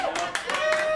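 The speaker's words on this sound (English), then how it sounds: "Why are you clapping for that?" A few sharp claps from an audience member at a live comedy crowd-work podcast show, brief and close, mixed with talking and laughter.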